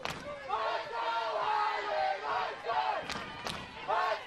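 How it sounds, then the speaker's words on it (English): Home crowd at a Highland high school football game cheering and roaring to urge on the defense during a third-and-short stop, a broad swelling noise with rising shouts and a few sharp whistles and bangs. "So the Highland crowd really trying to get into it to will their team."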